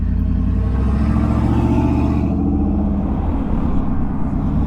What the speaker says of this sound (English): loud truck